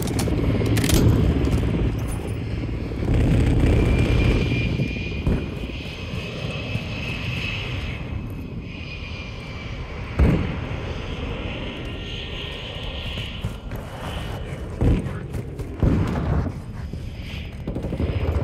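An enemy jet roars overhead in Call of Duty Modern Warfare II, a loud sustained engine rush with sharp bursts of gunfire cutting through.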